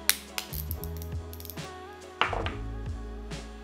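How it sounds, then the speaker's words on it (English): A socket wrench ratchets in quick clicking bursts while tightening a bicycle pedal axle nut to torque, the clicks close and crisp with a few sharper knocks between runs. "take your socket and your Allen key, and we're torquing that up to 10 newton meters"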